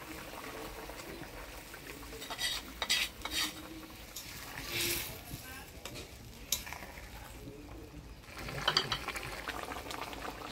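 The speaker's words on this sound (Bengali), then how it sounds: "ভাজা মাছ দিয়ে জাল দিয়ে নিলাম।" Tilapia fish curry with green chillies bubbles in a pan, a quiet soft simmer broken by intermittent stirring scrapes and utensil clinks, no voices.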